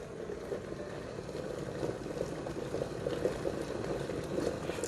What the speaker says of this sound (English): Alright guys, it's boiling now.